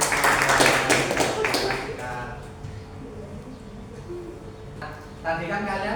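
A fourth-grade class in Indonesia bursts into brief, lively clapping for a classmate, the applause loud for about two seconds before fading under a teacher's voice and light room noise.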